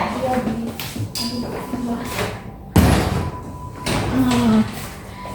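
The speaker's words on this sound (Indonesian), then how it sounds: "saya permisi tutup pintu dulu ya" A door is closed in a midwife's consultation room, one solid thud standing out amid shuffling movement and room noise, close by, with voices in the room around it.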